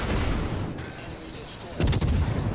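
Naval guns of the cruiser HMS Leander firing in the World of Warships game, a dense rumbling barrage with a louder burst of shots near the end, with no talking.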